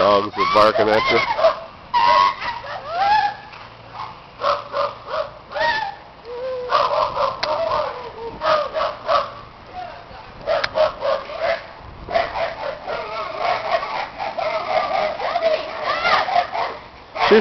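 Several dogs bark over and over in quick bursts at an Easter gathering, loud and close, continuing throughout with little pause.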